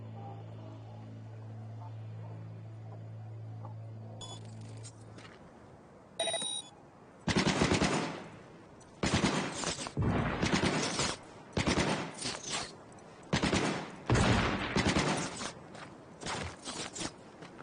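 Bursts of turret gunfire in the shooter game Cyberpunk 2077 rattle loudly in repeated volleys after a quieter stretch of droning tones, with short pauses between the bursts.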